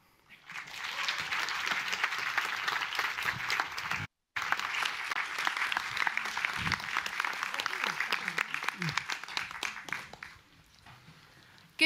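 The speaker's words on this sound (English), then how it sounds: "So I would just ask you for a very, very loud and warm applause" Warm, sustained applause from a conference audience welcoming a singer at an international climate and security event, dense clapping that swells quickly, holds steady for several seconds with a short break, then fades away.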